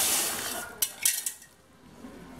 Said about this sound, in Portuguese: Vou me afastar um pouco e vou jogar aqui a soda cáustica.